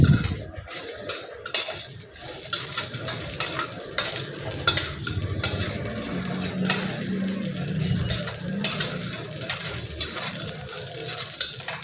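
Fennel, cumin, pepper, chillies and poppy seeds dry roasting in a pan for a kollu spiced rice mix, a steady light crackle with scraping stir strokes running throughout, close and moderately loud, no talk.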